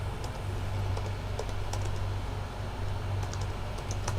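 Steady clicking of keys on a computer keyboard during data entry for a travel and transport software project, close and continuous over a low background hum, with no voices.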